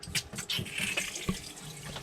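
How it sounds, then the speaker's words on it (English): Hot water runs from a tap, splashing and gurgling unevenly into a sink, fairly quiet and close. "turn the hot water on"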